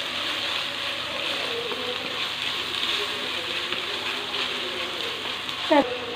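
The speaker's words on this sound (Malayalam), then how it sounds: "വെളുത്തുള്ളി ചതച്ചത് എല്ലാവരും നന്നായിട്ടൊന്ന് കുക്ക് ചെയ്യുക ചെറുതായിട്ടൊന്ന് വഴണ്ട് വരട്ടെ" Crushed garlic and shallots sautéing in a pan for a Kerala-style chili sardine curry: a continuous, even sizzle of frying in oil, close and steady, with a brief utensil scrape near the end.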